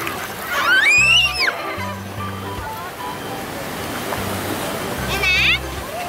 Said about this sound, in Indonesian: Wah, datang lagi ombaknya.